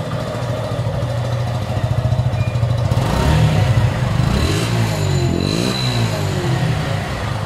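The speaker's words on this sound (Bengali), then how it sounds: "তো আমি বাইকটা স্টার্ট দিয়ে আপনাদেরকে দেখাচ্ছি" A four-month-old Suzuki Gixxer naked A5 version motorcycle starts and settles into a steady close idle, then revs up with a rising and falling engine tone before dropping back to idle, loud and with no talking.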